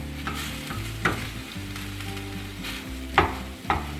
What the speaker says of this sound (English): we're gonna stir all this together and just let it cook another minute or 2